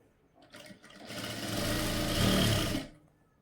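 A sewing machine stitches darts on the front part of a blouse in one short burst, starting with a few taps, then settling into a steady mid-loud whir that runs about two seconds before stopping.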